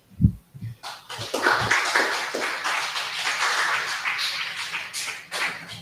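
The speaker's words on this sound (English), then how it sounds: "I think we could give him a better round of applause." Audience applause at a summer program closing ceremony: a few scattered claps, then a steady round of clapping from a crowd that carries on to the end.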